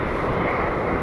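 A Southwest airliner taxiing to the gate, giving a steady, loud jet engine roar with a broad hiss that stays even throughout, with no voices.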